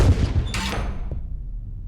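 One of the two forward 5-inch naval gun mounts on a destroyer fires in the game Destroyer: The U-Boat Hunter, a single loud, deep boom that rolls off into a fading rumble.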